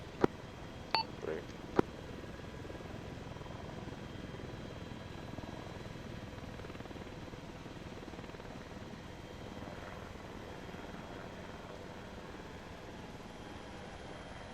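Steady helicopter rotor and engine drone in ArmA 3 holds constant through the whole stretch at cruise, with a few short beeps near the start.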